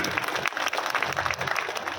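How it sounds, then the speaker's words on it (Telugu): An audience at a cow maha aarti event claps together in sustained applause, a dense crackle of many hands that stays steady and fairly loud throughout the short stretch. "మీ అందరికి ఇష్టమైతే ఒకసారి చప్పట్లు కట్టండి"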